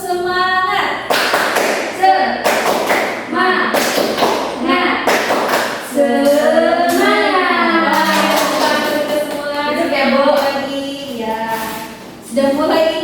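Schoolchildren in a classroom do a rhythmic spirit clap led by their teacher. Loud patterned bursts of clapping and thumping alternate with voices chanting and talking, and the group claps in time.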